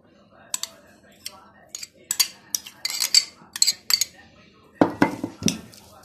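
A utensil mixing cheese and parsley in a bowl, giving scattered clinks, taps and scrapes in irregular bursts that grow busier toward the end, close and fairly quiet.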